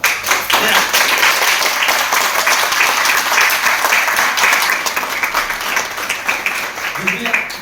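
Loud, dense audience clapping at a youth team meeting in Ballabgarh, a continuous heavy wash of many hands that eases slightly toward the end, with a voice briefly audible near the close.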